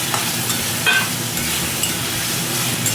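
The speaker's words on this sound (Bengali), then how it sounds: "টমেটোটা দিয়েও একটু ভালো করে একটু নেড়ে দিই" Tomatoes frying in a pan for khichuri are stirred under a steady, close sizzle, with soft scrapes and a few brief clinks breaking through.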